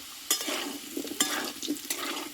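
Softened, thick-cut potatoes frying in oil are stirred with a spatula in a vegetarian dish, giving three close scraping strokes over a soft, steady sizzle.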